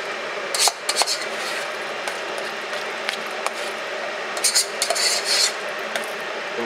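A utensil stirs chopped chives into sour cream in a bowl, making close scraping and rubbing sounds in short bursts with brief clinks against the bowl.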